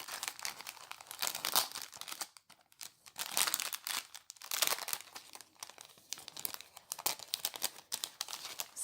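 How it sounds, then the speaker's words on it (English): Crinkling and tearing of plastic packaging as a Silhouette Cameo paper cut is opened, close and loud in irregular bursts with brief pauses. "Sorry for the crinkling"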